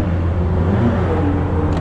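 A Mercedes A45 AMG in Sport Plus mode with its sport exhaust open gives a loud, close, steady engine rumble and rev for under two seconds, with no talking.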